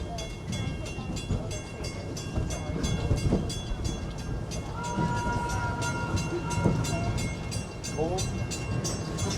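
Wildlife Express train at Disney's Animal Kingdom rolling along with steady rumble and rhythmic clatter, a sustained whistle-like tone entering midway and a brief chirping sweep near the end, heard close and continuous.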